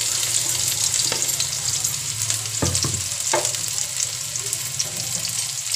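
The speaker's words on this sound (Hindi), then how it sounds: "इसमें हम प्याज डाल देंगे।" Chopped onions fry in hot oil in a pan, a steady close sizzle running throughout, with a few brief stirring scrapes around the middle and no talking.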